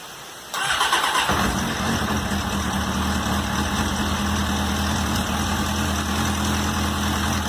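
A 2001 Suzuki GSX-R 600 motorcycle engine cranks and catches after a brief quiet moment, then settles into a steady, close, continuous idle that holds to the end.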